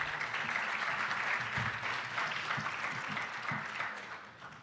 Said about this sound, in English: Give yourselves a big round of applause for what you do